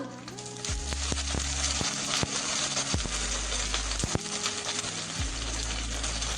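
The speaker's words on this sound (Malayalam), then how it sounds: "കടുക് പൊട്ടി കഴിഞ്ഞ് നമുക്കിനി വറ്റൽമുളക് ഇട്ട് കൊടുക്കാമേ" Mustard seeds, dried red chilies and curry leaves sizzle steadily in hot oil for a South Indian kichadi. A dense frying hiss runs throughout, with occasional pops and low hum-like bursts from a nearby appliance.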